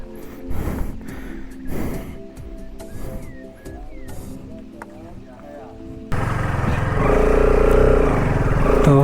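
A motorcycle engine roars loudly and steadily while riding away from a lakeside at a hilltop fort, following a stretch of quieter background sounds and a voice.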